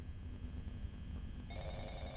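After a stretch of low rumbling ambience, an electronic phone ring in a video game cuts in near the end, clear and steady.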